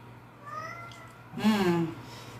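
A cat gives a couple of meows, a faint one first and then a louder, drawn-out cry close by.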